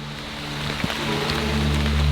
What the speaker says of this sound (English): The first few drops are coming down, but the canopy is so dense, it eats up a lot of that rain before it even makes it down here.